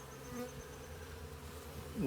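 Honeybees from a package hum steadily as they are installed into a hive, a close, continuous buzzing swarm with a louder rise of handling noise at the very end.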